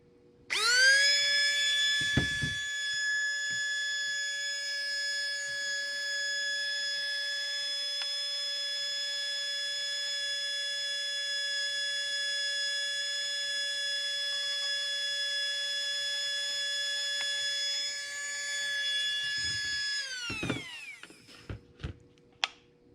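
Small RC tank electric motor after a timing mod, spinning at very high RPM on its stock battery: a loud, steady high-pitched whine held for about eighteen seconds close up, then winding down, followed by a few clicks.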